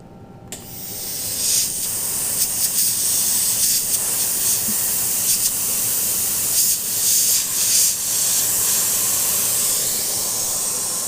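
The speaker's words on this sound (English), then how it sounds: "So let's get the blower on." An air blower runs with a loud, steady hiss that starts abruptly and continues unbroken, with faint knocks and rustles in the background and no speech.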